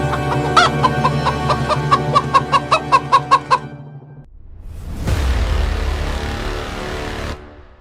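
Hens cluck in a rapid, rhythmic series for a few seconds, then a brief lull gives way to a low rumbling noise.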